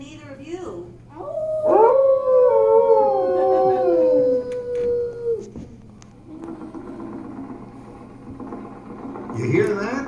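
A dog in the Carousel of Progress animatronic stage show lets out a long, wavering howl lasting several seconds, fairly close and prominent, followed by quieter background sounds and a brief voice near the end.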